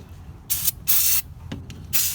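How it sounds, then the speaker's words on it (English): Aerosol brake cleaner sprayed onto the engine of a 1985 Mercedes 300D diesel, in four sharp hissing bursts of varying length, loud and close, with short pauses between them. "Sprayed it off with some brake cleaner."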